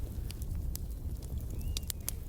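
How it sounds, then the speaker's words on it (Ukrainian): Soft, steady crackling of onions frying in fat, with occasional sharper pops over a low background rumble. "Добре перемішую і нехай смажиться десь пару хвилин."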